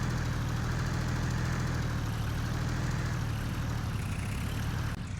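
Z-Tor tractor in Farming Simulator, its engine running at a steady, loud low rumble with a constant drone, continuous and even throughout with no voices.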